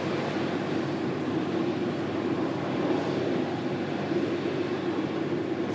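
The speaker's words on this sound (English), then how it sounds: "Another aircraft making its way back to base" An aircraft passes over an airport plane-spotting spot, a steady, broad, rushing roar holding at an even level throughout with no voices.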